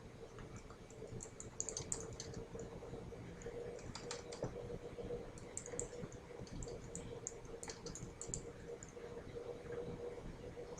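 A player's name is entered on a computer keyboard as soft, steady keystroke clicks in short runs over a low hum, faint and close.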